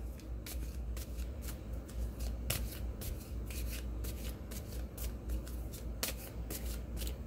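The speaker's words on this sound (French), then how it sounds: "Je vais aller piger une carte pour répondre à votre question." Tarot cards being shuffled by hand, a steady run of crisp riffling flicks and soft card slaps, close and fairly quiet over a low background hum, with no talking.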